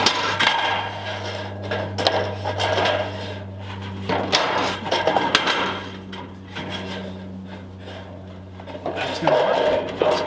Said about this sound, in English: Let me finish nailing this off